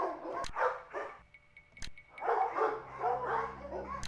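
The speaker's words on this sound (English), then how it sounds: "These dogs have been trained to act vicious on command." Dogs bark and growl aggressively in the Nancy Drew video game, several close, sharp bursts of barking separated by short pauses, with snarling under them.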